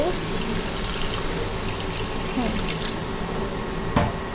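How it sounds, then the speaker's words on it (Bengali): Water is poured into a kadai on an induction stove for a tengra fish curry, giving a close, continuous splashing rush that runs steadily to a small bump at the end. "এখন আমি একটু সামান্য পানি দেব।"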